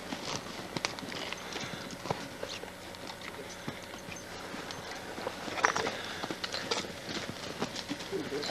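Hooves of a white working horse used for logging plod along steadily in an outdoor woodland setting, a soft irregular clip-clop under ambient noise, with occasional birdsong and someone talking intermittently.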